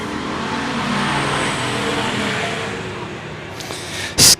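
Race cars roar off together at the green flag on an oval short track at Bethel Motor Speedway, a dense sustained engine din that holds steady and slowly eases, ending in a brief loud burst.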